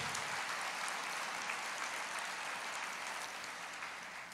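Church congregation applauding during a sermon, a steady wash of many hands clapping that holds evenly for several seconds, fairly distant and diffuse with no voices over it.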